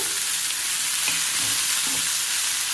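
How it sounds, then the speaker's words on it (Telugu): Boiled cluster bean pieces hit a hot tempering in a pan and fry with a steady, loud broadband sizzle, with a couple of soft stirring scrapes partway through; no voices. "ఈ వేగిన పోపులో మనం ఆల్రెడీ ఉడకబెట్టుకున్న గోరుచిక్కుడు ముక్కల్ని యాడ్ చేసేద్దాం"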